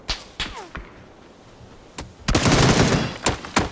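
Rapid video-game gunfire, a few sharp isolated shots early on followed by a loud sustained burst of automatic fire with scattered shots trailing off, no voices.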